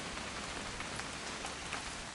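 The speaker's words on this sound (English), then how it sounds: "It's gonna rain the whole weekend" Steady rain falling in a video game, an even hiss of drops on surfaces, close and continuous with no talking.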